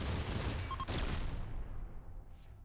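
Bolter gunfire in the video game Rimworld rips out as a dense, loud volley of overlapping shots. It cuts off sharply about halfway through and leaves a fading tail.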